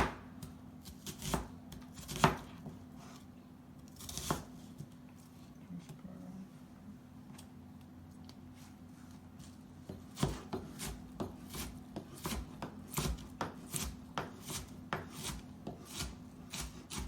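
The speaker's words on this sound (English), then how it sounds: "just roughly chop it like finely, as fine as you can" A knife chops vegetables on a cutting board for a chickpea curry, a quiet, uneven series of taps that speeds into a steady rhythm of close knocks in the second half, with no talking.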